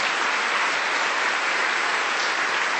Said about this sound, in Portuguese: Você pode dar um aplauso a Jesus nessa manhã?